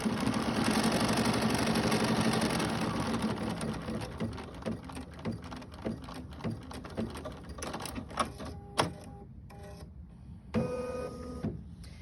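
A computerized embroidery sewing machine runs a tack-down stitch around the loose fabric edges of a quilt block held in the hoop, giving a steady, close, rapid mechanical chatter with a dense, even rhythm that thins toward the end.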